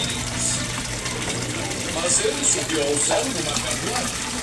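An Aquaspeed submersible pump running in a koi fish pond, a steady close rush and gurgle of moving water with small splashes and someone talking over it.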